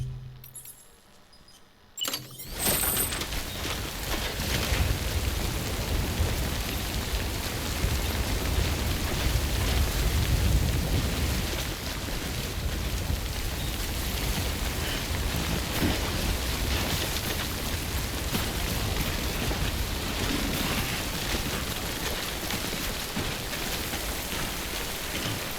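Timefall rain pours steadily in Death Stranding, a loud dense hiss of rainfall starting after a brief quiet moment and holding for the rest, with faint low rumbles beneath and no talk.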